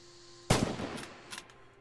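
A single sharp bolt-action rifle gunshot in the World War II shooter Red Orchestra 2, a loud close crack followed by a decaying echo tail and a fainter rattle, over a quiet background hum.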